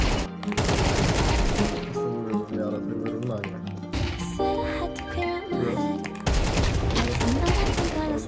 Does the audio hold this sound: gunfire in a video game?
yes